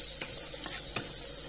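Garlic and onion frying in a pan for a small fish dish, a steady soft sizzle with a few brief stirring scrapes, close and fairly quiet, no voices.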